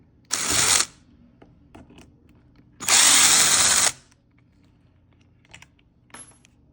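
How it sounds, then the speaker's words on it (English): A power driver with a Torx 25 bit spins out the solenoid screws on a BMW F15 X5 air compressor: two loud whirring bursts, the second longer, with faint clicks and small metal taps between. "now I'm going to take off the solenoid. I'm going to use a Torx 25"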